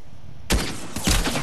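Sniper shot in a video game: after a near-silent start, a loud, close gunshot blast hits, followed by a second heavy burst of gunfire with a lingering rumble.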